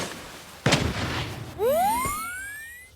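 A grenade goes off in a video game: one sharp blast with a crackling tail, then a rising whistling tone and a second thump, loud and close with no talk.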